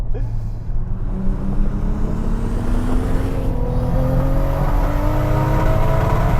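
A 1000hp Toyota Supra MK4 engine revs hard on boost, its rising whine and roar climbing steadily while a voice speaks over it.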